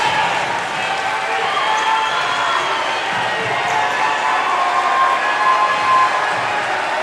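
A home crowd at a boys varsity basketball game between Rice Lake and River Falls cheers and claps in a loud, continuous roar throughout.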